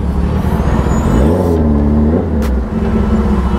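Road traffic crawls in a jam, with a nearby car engine humming and shifting pitch as it revs, plus a brief hiss near the end and no talk.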